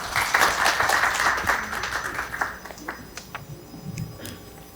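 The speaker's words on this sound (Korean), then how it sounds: "큰 박수 부탁드립니다." Applause from the audience at a girls' middle school research report event in 2021, a dense burst of clapping for about two and a half seconds that thins to scattered claps, with faint movement and a voice near the end.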